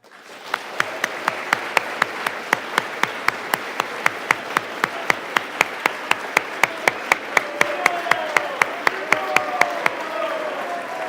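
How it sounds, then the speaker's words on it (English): Applause for cadets at a Winter Raptor VII awards ceremony, with one strong, steady rhythmic clap cutting through a broad wash of crowd clapping, sustained and fairly loud for the whole stretch. "Let's get a huge round of applause for these cadets."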